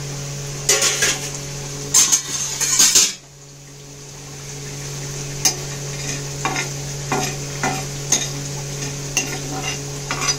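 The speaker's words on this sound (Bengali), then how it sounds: "এলাচ, দারচিনি, একটু জয়িত্রী জায়ফল, কাজু, আমন্ড, শুকনো লঙ্কা, কসুরি মেথি, এগুলোকে আমি আগে প্রথমে একটু খালি খোলায় ভালো করে টেলে নেব।" Dry spices, cashews, almonds and dried chillies being stirred and toasted in an empty pan, with repeated scraping and rattling strokes over a steady background hum, loud and close, a brief pause near the middle.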